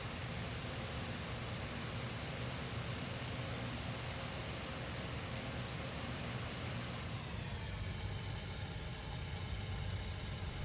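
An Fw 190 A-3 fighter's engine idles in IL-2 Great Battles, a steady loud broadband roar with a low throb that shifts slightly in tone toward the end, heard alone.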